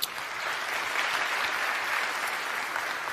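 A theatre audience at a comedy show claps in dense, sustained applause, a steady even wash of many hands that holds at full strength throughout.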